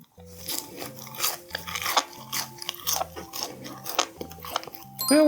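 Crunchy bites and chewing on the crisp bottom crust of a salt bread roll, a run of close, dry crackling crunches over a rhythmic low-pitched backing track.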